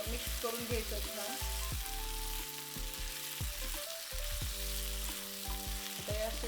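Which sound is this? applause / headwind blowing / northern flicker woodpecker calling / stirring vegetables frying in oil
stirring vegetables frying in oil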